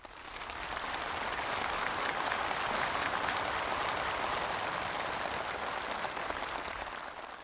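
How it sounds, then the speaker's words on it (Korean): Crowds of county residents at a daily-goods factory opening ceremony break into dense, enthusiastic applause and cheering, a loud, steady wash of clapping that swells in and holds throughout. "군 주민들의 환호와 열렬한 박수갈채가 터져오르는 속에"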